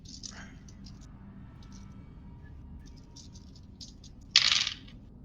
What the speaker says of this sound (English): That was a lot of dice.